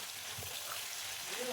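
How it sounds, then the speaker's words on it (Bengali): Pomfret fish frying in hot oil in a pan, a steady soft sizzle running through the short stretch with a faint stir of movement. "তেলের উপর মাছগুলো দিয়ে ভেজে নেব ভালো করে।"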